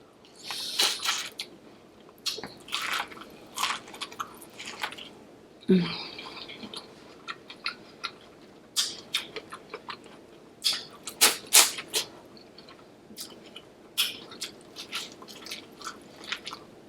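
Close, crisp chewing and wet biting from eating a spicy lobster seafood boil, with irregular smacks and squishes spread steadily throughout, no talking.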